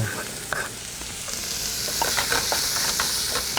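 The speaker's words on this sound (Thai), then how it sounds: "ขั้นแรกก็เอาตัว หอมใหญ่นะครับ ลงไปผัดก่อน" Chopped onions sautéing in a little oil over medium heat, a steady close sizzle with stirring scrapes breaking through now and then, no talk.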